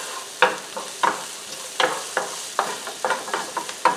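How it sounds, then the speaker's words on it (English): Diced onion sizzling in hot olive oil in a pan, with a steady frying hiss broken by repeated stirring scrapes about every half second; fairly loud and close, with no talk. "I just put in my diced onion into my pan here with the oil."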